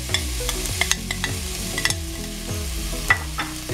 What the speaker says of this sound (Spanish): rápidamente le vamos a poner la cebolla y el morrón que habíamos cortado